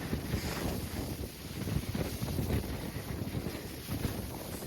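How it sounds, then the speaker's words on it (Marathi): Strong, gusty wind roars steadily across the microphone at Sinhagad fort, a continuous low buffeting rumble with no pauses, loud and close throughout. "एवढं जोरात वारा आहे ना की असा माणसाला मागं ढकलाले असं एवढं जोरात वारा आहे"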